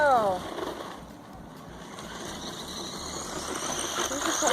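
Remote-control toy motor run at full throttle on a partly charged battery, a loud close whining buzz that sweeps down at the start and then holds a steady high drone.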